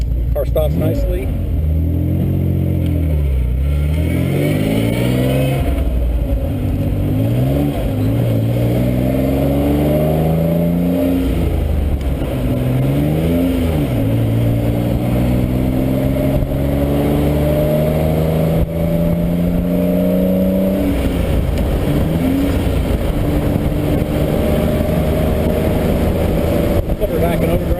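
A 1967 Healey BJ8 MKIII engine revs up loudly several times, its rising drone swelling and dropping with each gear change, heard from inside the moving car with someone talking over it.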